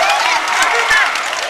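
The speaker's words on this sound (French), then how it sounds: "est-ce qu'on peut les applaudir, s'il vous plaît?" A crowd at a university basketball final cheers and claps loudly for the winning team, a dense steady mix of shouting and applause filling the whole moment.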